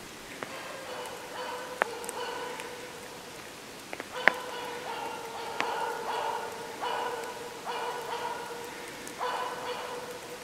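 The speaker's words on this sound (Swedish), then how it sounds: "Här är det Xena som skäller ko och kalv." A Jämthund barks repeatedly in short bursts at a cow and calf moose during a hunt, several barks at irregular intervals over a steady background of rain patter.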